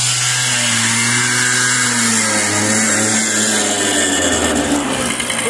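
A Babetta moped engine fitted with a Dell'Orto carburetor runs steadily nearby, a loud continuous buzzing hum with a slight shift in pitch toward the end.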